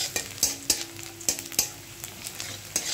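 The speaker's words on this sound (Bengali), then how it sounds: "পেঁয়াজটা ভাজা হয়ে গেছে, আমি তুলে নেব পেঁয়াজটা।" Onion frying in a pan with a steady sizzle, broken by repeated sharp scrapes and clicks of a utensil stirring against the metal, close and clear with no voices.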